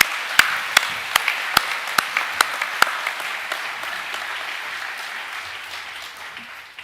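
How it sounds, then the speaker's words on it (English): Applause for a student at a junior academic awards assembly, a hall of clapping with a few sharp, separate loud claps standing out early, then a steady crowd patter that slowly fades. "We might give him another round of applause, please."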